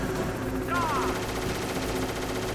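Gunfire in the video game Metal Gear Solid rattles continuously through the scene as loud game audio, with a voice talking over it.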